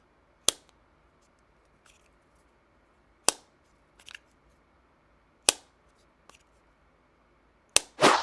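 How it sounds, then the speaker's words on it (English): Echo Buds Gen 2 earbud case snapping open and shut, giving several sharp, close plastic clicks at irregular intervals over near silence, with a louder click and rattle at the end. "the opening and closing of the case is definitely on the more satisfying side"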